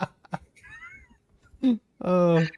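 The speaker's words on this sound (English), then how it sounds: "My pleasantly fluffy giant cat thinks he is a young kitten and tried to achieve a jump that his girth will not" A large, fluffy giant cat lets out two short meows, the second longer and louder, close by, after a few soft thumps and rustles.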